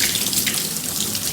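Water runs steadily from a tap or sprayer as washed natural hair is rinsed, a close, continuous hiss and splash with no talking.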